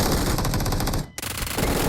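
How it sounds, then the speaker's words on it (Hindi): Automatic gunfire in the BGMI battle royale video game: loud, rapid bursts of repeated shots that break off briefly and then resume, with no talking. "देखो फिर सामने से गोलियां चली।"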